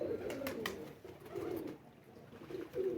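Pigeons cooing softly while bathing, repeated low burbling coos close by with a few splashes and flutters early on, no talk.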